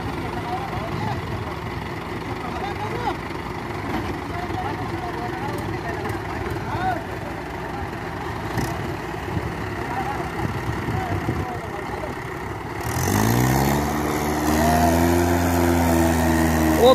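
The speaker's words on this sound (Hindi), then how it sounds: "चलो भाई वो तो ट्रैक्टर जा लिया" A Mahindra tractor engine drones steadily at a rural sugarcane crusher, then revs up louder and changes pitch as it pulls away, with people talking over it.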